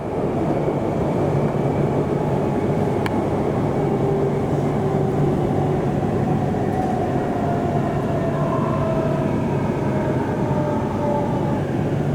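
An HCMT suburban train pulling into Clayton station on the Dandenong line, a loud continuous rumble and rolling hum with faint whining tones and a brief squeal, heard from on board.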